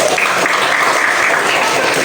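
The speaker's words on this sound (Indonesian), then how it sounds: "Tepuk tangan untuk kelompok 1." Classroom applause for a student group: a short, dense burst of many hands clapping together, loud and close, lasting about two seconds.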